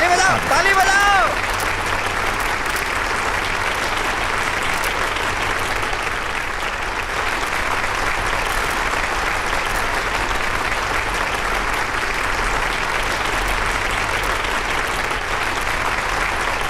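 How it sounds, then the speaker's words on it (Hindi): An audience claps continuously throughout a scene in an Indian action film. The applause is loud, dense and unbroken, with speech running underneath it. "आपकी बारी आ गई, ताली बजाओ, ताली बजाओ।"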